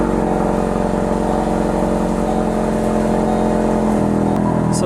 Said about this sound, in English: So this exhaust is extremely loud.